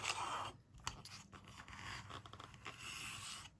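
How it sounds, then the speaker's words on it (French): Scissors cutting through thick 350 gram paper, a close, quiet run of crisp snips and scraping blade strokes without talk. "Alors là, je coupe du papier"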